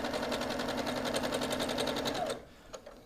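Sewing machine top-stitching through fabric, a fast steady run of needle strokes lasting over two seconds, then stopping with a couple of faint clicks after.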